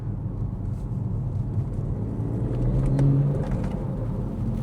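A BMW M140i accelerating hard in manual mode, heard from inside the cabin as a steady low engine drone that swells and rises in pitch near the middle before easing slightly, with no talking.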